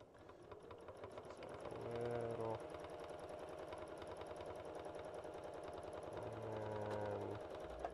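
A sewing machine stitches steadily during free motion quilting with a rapid, even clatter that speeds up in two louder bursts. It is close and continuous, with faint talk in the background.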